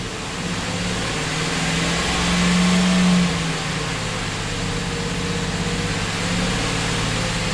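A Chevrolet Silverado engine with intake and knock sensor work, held at a steady 2,500 RPM, gives a continuous close hum and drone with a brief swell partway through.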